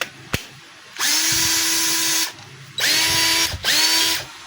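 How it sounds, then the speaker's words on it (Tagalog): A DeWalt DCD780 cordless drill with a newly repaired transmission runs in three bursts, a close, loud, smooth whirring motor that rises and then cuts off between each short run. "So smooth na po yung andar niya mga kabay dahil bago na po yung kanyang transmission"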